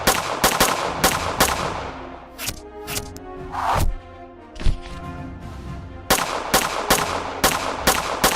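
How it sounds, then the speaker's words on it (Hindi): Repeated gunshots crack out in a dramatized shootout, with bursts of rapid fire, brief lulls and sharp single reports, loud and close throughout with no talking. "वो तीनों लोग छुपकर मेहुल के ऊपर फायरिंग करने लगते हैं। मेहुल भी फायरिंग करने लगता है।"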